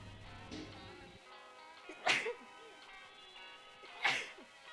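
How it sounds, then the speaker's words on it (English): Two sharp, close sneezes burst out about two seconds apart over a quiet indoor background, with faint game sounds and breathing between them. "Downside to the beautiful weather, I can't stop sneezing."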